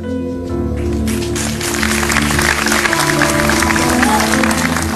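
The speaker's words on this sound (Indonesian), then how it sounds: "Anda berikan tepuk tangan yang keras" A studio audience at a hypnosis show bursts into loud, sustained applause with a crowd murmur, swelling after a brief quieter start and continuing steadily.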